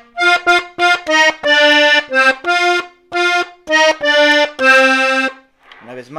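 An accordion plays a song as a tutorial phrase of short, punchy reedy chords and notes in a bouncy rhythm, close and loud, ending with a brief low breathy bellows sound.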